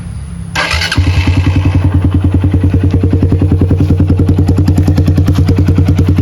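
A Verza motorcycle engine cranks and fires up, then settles into a loud, steady, throbbing, bassy exhaust beat close by.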